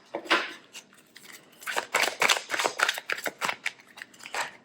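Lenormand fortune-telling cards are shuffled by hand, giving a close, quiet run of crisp riffling snaps and papery flutters in uneven bursts, with no talking.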